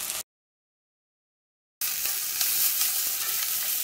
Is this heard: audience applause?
no